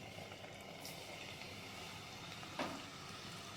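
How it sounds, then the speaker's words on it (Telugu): Onion pakoda batter frying in hot oil on a low gas flame gives a faint, steady sizzle with a brief crackle near the end, heard alone without speech. "ఇప్పుడు ఈ వేడి వేడి ఆయిల్లో పకోడీ వేసుకుందాం"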